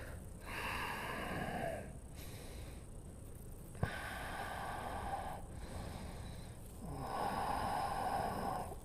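Deep yoga breathing during a runners' core and hip class: long, audible inhales and exhales come in slow steady waves, close and fairly loud, with a brief sharp tap partway through.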